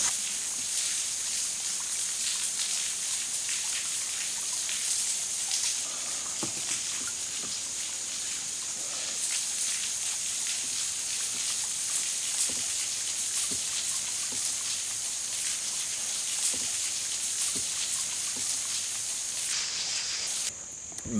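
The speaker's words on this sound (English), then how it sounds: "It's really cool just to sit here and like listen to the water come down." River water flowing steadily past a wooded bank, a constant gentle rushing wash with faint trickles and occasional small knocks, no talk over it.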